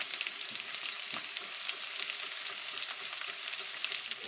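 Bacon and finely diced sweet onion fry in a pan for BBQ baked beans, a bright, continuous close sizzle with light crackles and occasional stirring scrapes.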